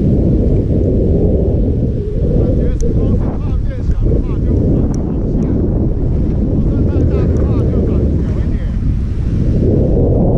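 Loud wind buffets the microphone in a constant low roar while skiing downhill at Shiga in Japan, steady with slight surges, and a voice speaks briefly under it.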